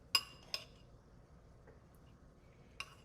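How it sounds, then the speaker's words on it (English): A spoon stirring food in a bowl for a Mexican fiesta bowl gives a few faint, sparse clinks against the dish, separated by near silence. "We're gonna stir this baby up with our spoon."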